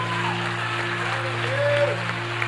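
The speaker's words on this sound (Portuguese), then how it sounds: "Vamos aplaudir o Senhor em nome de Jesus." A church congregation claps and cheers briefly during a worship service, a steady wash of applause with a sustained tonal hum underneath.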